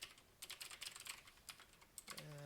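Rapid, uneven typing on a computer keyboard, close-miked and fairly quiet, keys clattering in short bursts for about two seconds before a brief voiced hum at the end.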